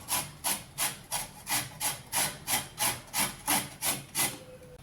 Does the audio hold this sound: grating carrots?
yes